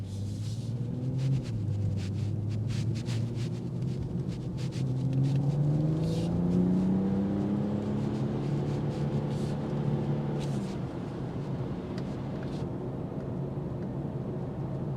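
A steady, low exhaust drone from a 2025 BMW 330i on the move, rising and falling smoothly with the engine's pitch beneath a constant rumble of road and cabin noise.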